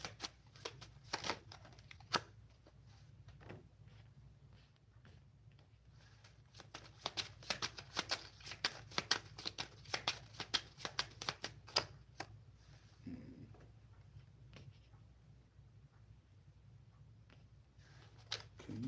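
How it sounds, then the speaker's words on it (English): A deck of tarot playing cards is shuffled by hand, with bursts of quick crisp riffling clicks separated by quieter pauses, close and fairly soft. "I'm using a deck of playing cards, but they are for tarot deck of playing cards."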